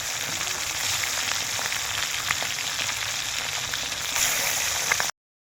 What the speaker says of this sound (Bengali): মাছটা আমি তেলের মধ্যে ছেড়ে দিচ্ছি